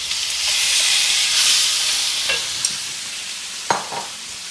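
Potatoes with turmeric being fried for aloo sabji, a loud steady sizzle and hiss that slowly fades, with a few sharp scrapes and knocks of a spoon against the pan near the end.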